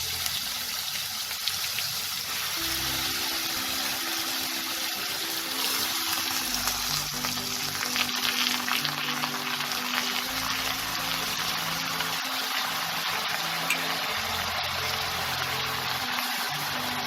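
Bottle gourd pieces tipped into black cumin seeds frying in a pan for a traditional Bengali lau ghonto, giving a dense, steady, watery hiss and sizzle that carries on loudly for the whole stretch with no speech.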